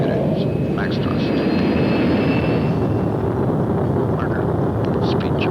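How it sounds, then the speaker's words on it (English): Twin jet engines of a Lockheed SR-71 roaring steadily at maximum thrust during a takeoff run, a dense continuous broadband rumble that stays loud throughout with faint radio chatter beneath it. "2 good engines, max thrust."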